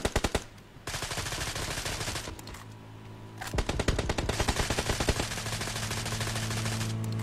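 Automatic rifle fire in PUBG on the Erangel map: rapid, evenly spaced close bursts, a short pause, then another long rattling string of shots over a low vehicle hum.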